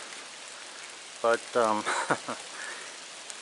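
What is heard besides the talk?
rain falling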